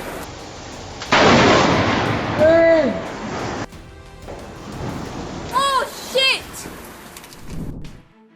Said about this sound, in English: A thunderstorm lights up the Melbourne night sky